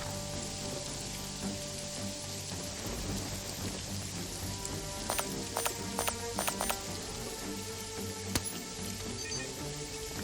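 Steady rain falls in Jagged Alliance 3, a broad continuous patter hissing across the whole stretch, with a cluster of sharper drop or crackle bursts near the middle and a low rumble underneath; no one speaks.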